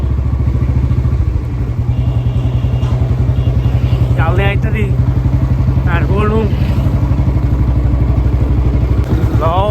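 A Bullet motorcycle engine runs steadily and close throughout, a constant low throb, with a few bird chirps breaking through above it.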